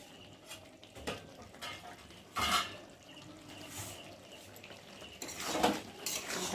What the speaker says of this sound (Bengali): দিয়ে একটু ভালো করে নেড়ে চেড়ে দেবো, যাতে চিনিটা গলে।